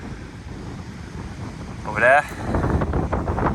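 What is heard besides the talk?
wind blowing on a coastal clifftop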